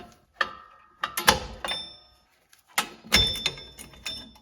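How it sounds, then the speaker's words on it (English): Metallic clanks, snaps and scraping come close by as the top springs are pried off a Mopar drum brake on a Plymouth Gran Fury, in irregular bursts separated by short silences. "Start by removing these top springs."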